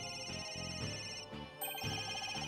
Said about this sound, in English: Where's the ringing coming from?